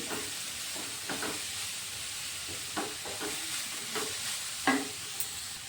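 Vegetables for Bengali potato veg chop frying and being stirred in a pan, a steady sizzle with scattered scraping spatula clinks.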